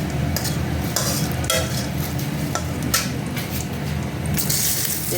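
Cumin seeds sizzle in oil for tempering, a loud continuous hiss with bursts of crackle and some clinking of a utensil, with no talk.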